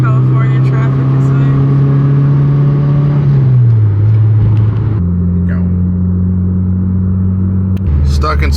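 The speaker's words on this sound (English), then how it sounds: "Stuck in some good old California traffic." Vehicles idling and creeping in congested California traffic, a low steady engine rumble that shifts pitch as cars move, close and continuous with a person talking over it.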